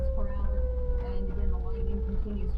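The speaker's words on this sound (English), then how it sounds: "That's a tornado warning when that siren goes off in my town." A town tornado warning siren wails in a steady, slowly falling tone, heard from a distance while a voice talks over it.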